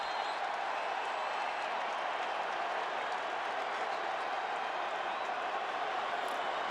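A packed NFL playoff stadium crowd roars in a steady, dense wash of noise, loud and unbroken throughout with no pauses, like continuous cheering and yelling at a Packers–Falcons divisional game.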